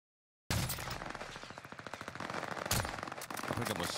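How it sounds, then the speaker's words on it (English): Rapid automatic gunfire in Vanguard Warzone on Rebirth Island, dense bursts of shots with sharp louder cracks breaking in, under voices talking. "Getting shot from top control."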